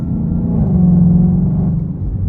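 A Ford Mustang GT500 engine revving under throttle, a loud, close, deep rumbling drone that swells and holds steady, with no voices.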